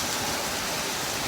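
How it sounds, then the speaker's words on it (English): Hail pours down outside during a hot-to-cold storm with high winds, a dense, steady hiss of countless impacts that fills the whole stretch with no voices. "Y'all see this hail out here."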